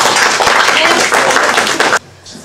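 A room full of guests claps for a couple celebrating their wedding anniversary, dense and close for about two seconds before stopping abruptly, followed by quiet murmuring.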